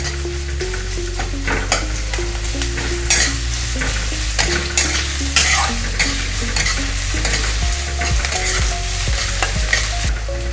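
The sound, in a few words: curry leaves and onion frying in a pan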